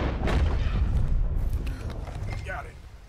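Pistol shot in the Red Dead Redemption 2 video game, a short report heard among dense game noise with rumbling and horse-like clatter under it.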